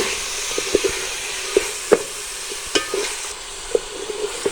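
Chopped carrots fry in a pan for chicken corn soup, a faint steady sizzle with sharp intermittent clinks and scrapes of stirring, close by.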